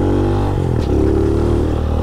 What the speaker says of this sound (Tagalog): Press mo ang clutch at bombahan mo ang iyong makina.